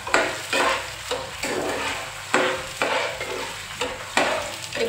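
Salt and turmeric fry in a pan for murighonto while a spoon stirs in regular, scraping strokes about every half second over a loud, close sizzle.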